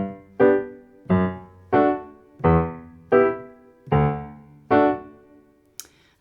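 Piano playing a descending Irish-style run, about eight firm, evenly spaced notes or chords stepping downward, each decaying before the next, close and unaccompanied, with a faint click at the end.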